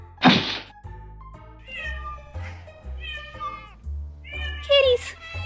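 Meowing cats as a sound effect for anime cat bombs: a sharp thump, then a series of short and drawn-out meows and mews over a steady low hum, getting louder and more layered toward the end.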